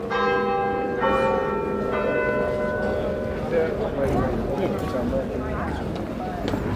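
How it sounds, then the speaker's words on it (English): Church bells ringing at midday in Oxford, with clear tonal strikes in the first seconds fading into a busy street background of footsteps and people talking nearby. "Wow, the bells."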